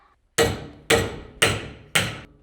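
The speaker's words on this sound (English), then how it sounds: "let's try to hammer this." Four sharp, evenly spaced hammer blows strike pressed aluminium pieces, each a loud metallic crack decaying quickly, with brief silence between hits.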